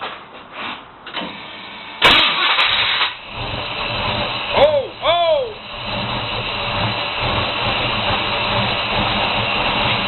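A small-block Chevy 350 fitted with FiTech Go EFI cranks and catches around two seconds in, then settles into a steady rough idle, close and loud. Brief squeaky sweeps break through midway, and a voice is heard early on.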